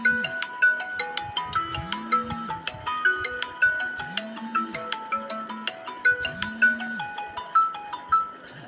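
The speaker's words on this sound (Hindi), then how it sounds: "किसी की फ़ोन आ गई थी।" A melodic phone ringtone plays loudly and steadily, repeating bright tonal phrases with swooping notes, interrupting a devotional bhakti song session; no one talks over it.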